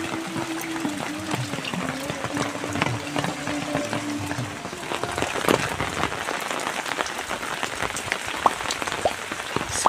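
Rain falls steadily in the countryside during the rainy season, a dense patter of drops on surfaces, close and even throughout, with a faint voice-like hum early on.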